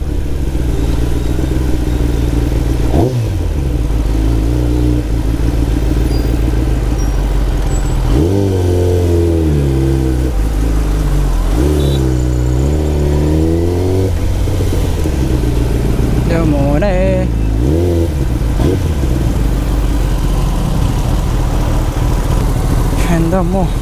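A Kawasaki Ninja ZX10R sportbike engine drones loudly and steadily while being ridden, with several rising rev sweeps as the throttle opens and closes. Road and wind noise run throughout.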